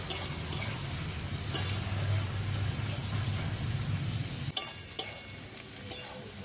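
Chopped onion and green chili fry in hot oil with a dense, steady sizzle. A couple of sharper clicks of stirring come near the end.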